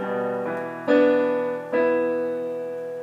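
Piano playing an accompaniment pattern: three sustained chords struck in turn, each ringing out and decaying into the next, played solo without talk.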